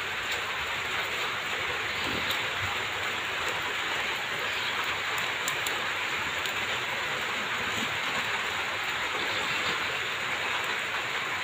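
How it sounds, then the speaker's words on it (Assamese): Steady rain falls continuously outdoors, a dense even hiss of drops on wet surfaces without pause, with no voices present. "বৰষুণ পৰিছে, গোটেই পানী হৈছে।"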